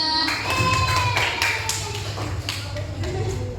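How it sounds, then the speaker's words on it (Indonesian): A classroom group claps for a student team, a brief burst of scattered hand claps and taps that thins out, with voices mixed in. "beri aplaus untuk kelompoknya Keisha"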